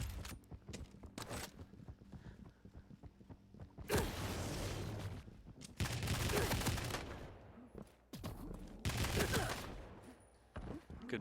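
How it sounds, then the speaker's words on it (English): Machine gun fire from a competitive Quake match between pro players, heard as bursts of rapid, loud, dense gunfire between quieter in-game noise and clanks. "Good machine gun damage from down below as vengeurR is so hurt"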